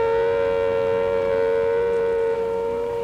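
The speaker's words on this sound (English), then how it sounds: "That siren sound, it's just so evocative." Wailing civil defence air raid siren, loud and continuous with a strong sustained tone that wavers slightly, heard alone.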